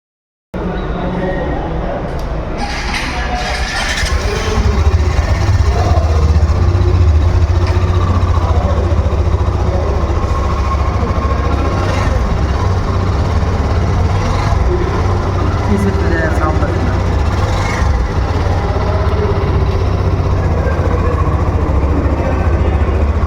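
A Hero Xtreme 125R 125cc motorcycle idles with a steady low engine rumble close by, while people talk over it throughout.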